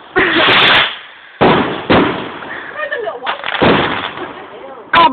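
Fireworks burst in a series of loud, close explosions with crackling tails, several distinct blasts spaced over a few seconds, with people talking in between.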